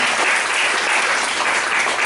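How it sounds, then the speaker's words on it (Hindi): A church congregation claps together at a worship service, a loud, dense burst of hand claps that fills the whole moment without a break. "तीन ताली पे चल रहे हैं"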